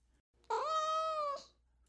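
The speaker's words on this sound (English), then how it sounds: "I have the great pleasure of interviewing Lil Bub, the world's most famous cat" A cat gives a single clear, drawn-out meow lasting about a second, close and alone in a quiet room.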